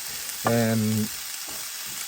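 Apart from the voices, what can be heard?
food frying in a pan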